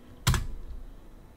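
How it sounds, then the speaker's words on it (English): A computer keyboard space bar is struck once during a strategy game session, a single loud, sharp clack close to the microphone that fades quickly into a quiet room hum. "Hit the space bar, destroy the keyboard."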